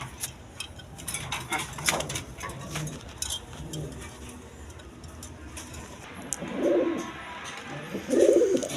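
A pair of Jharna Sharing pigeons coo in two short, soft bursts near the end, over a busy background of clinks and faint knocking.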